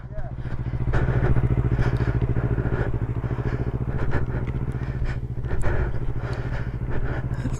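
Motorcycle engine revving as a learner rider pulls away, a steady loud mid-pitched drone throughout, with a brief swell near the start and faint voices under the noise.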